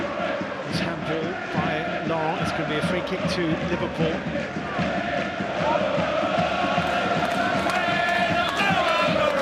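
Football stadium crowd at an FA Cup fourth-round tie between Shrewsbury Town and Liverpool, a loud continuous roar of cheering fans filling the ground while a commentator talks over it.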